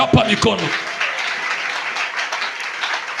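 A church congregation applauds in a dense, steady wash of clapping, with a voice heard briefly over it at the start.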